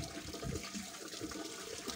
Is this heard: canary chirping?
no